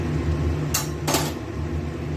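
A lid set on a cooking pot of potol posto, two quick metallic clanks close together over a steady low kitchen hum, with no voices.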